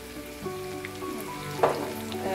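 Ginger fries in a pan for chilli chicken, giving a steady moderate sizzle with a few light stirring scrapes and one brief louder clatter near the end.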